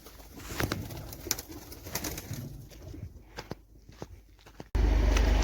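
Pigeons at a home in Saudi Arabia give soft, scattered coos alongside sharp clicks and footstep-like taps, fairly close, before a sudden loud steady noise takes over at the end.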